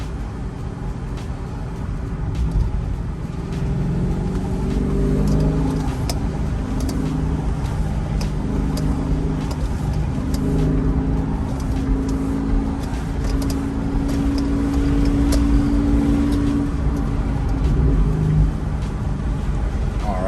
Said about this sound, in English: came back from the test drive